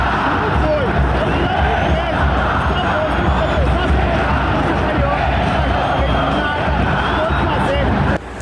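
América fans in a football stadium at Arena das Dunas, Natal, roar after a goal, a dense continuous crowd noise filling the whole stretch at steady loudness.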